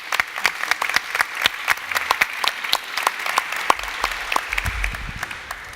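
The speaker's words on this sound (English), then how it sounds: "let's give them a round of applause" Audience at a city-collaboration conference panel applauds steadily for several seconds, a dense patter of many hands with sharper individual claps standing out, ending with a low voice starting underneath.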